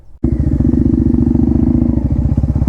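Motorcycle fitted with a loud aftermarket SC exhaust revs hard up close, its rapid, throbbing exhaust pulses holding a steady roar after a sudden start, with no talk over it.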